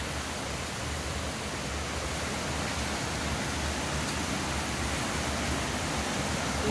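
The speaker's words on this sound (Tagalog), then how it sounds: "ang lakas ng agos" A strong river current pours over a waterfall in full flow, making a dense, loud, unbroken rushing roar that holds steady throughout with no voices.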